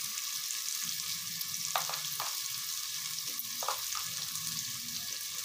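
Spice masala with turmeric and coriander powder frying with tomato in a pan for vegetable pulao, a steady close sizzle broken by a few light scrapes of a spoon.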